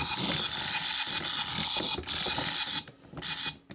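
The turret of a Transformers Energon Ironhide toy being turned, giving a close, grinding ratchet-like clicking in short bursts with brief pauses between turns, with no talk.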